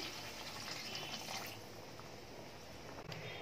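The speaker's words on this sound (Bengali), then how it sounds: "এবার এর মধ্যে একটু জল দিয়ে দিচ্ছি" Water pours into a pot holding paneer, potato and soybean chunks for a vegetarian biryani, a close, steady splashing gush that holds for a few seconds before easing slightly, with no voices.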